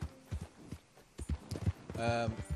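A horse in the video game Red Dead Redemption 2 clip-clops with a few scattered hoof thuds, mixed with a brief whinny-like tone near the end, under game sounds.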